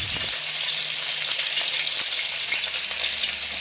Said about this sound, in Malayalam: സബോള അരിഞ്ഞ് വെച്ചിട്ട് കൊടുക്കാം.